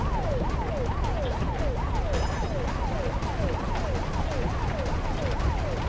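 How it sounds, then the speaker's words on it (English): An ambulance siren in the video game Truck Driver wails in a fast repeating up-and-down sweep, loud and continuous over road rumble. "Go ahead. The ambulance will take care of it."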